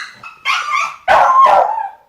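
A pet dog barks in two loud, close bursts, the second longer and yelping, with a short quieter yap before them and no talking.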